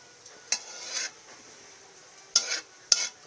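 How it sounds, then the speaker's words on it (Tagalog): Garlic and onion sauté in a pan with a soft background sizzle, punctuated by a few sharp clinks and scrapes of a utensil stirring against the metal, close up with no talking. "magigisa na po na tayo ng bawang saka sibuyas"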